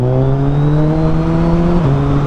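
A 2024 Suzuki Hayabusa motorcycle with dual exhaust holds a loud, steady close-up engine rev, its tone rising slightly before dipping near the end.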